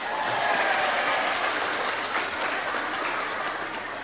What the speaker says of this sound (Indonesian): Wis tepuk tangan maning ora apa-apa.